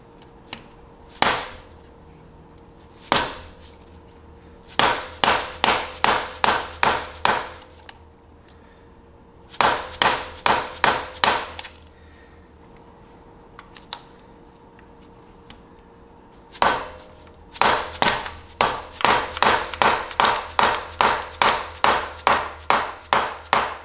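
Sharp metal-on-metal hammer blows drive a new clutch pilot bearing into place during a Weddle S4D transaxle upgrade with a Centerforce DYAD clutch, in quick bursts of five to eight strikes separated by short pauses, close and loud.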